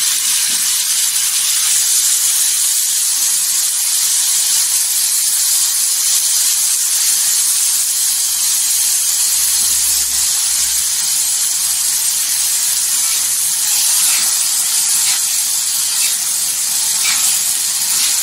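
Tomatoes dropped into a pan of golden fried garlic for a spicy green chilli and tomato thecha, giving a loud, steady hiss and sizzle that holds for the whole stretch with no talking.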